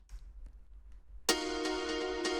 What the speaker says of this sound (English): We got this echo here.